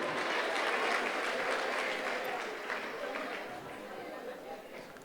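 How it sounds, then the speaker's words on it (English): A crowd applauds a student at a primary school annual awards ceremony, with full clapping that starts strong and slowly thins out, and children's chatter murmuring underneath. "Round of applause for Omari."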